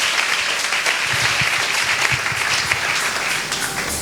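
A church congregation bursts into applause, steady clapping from a crowd filling the room for a few seconds.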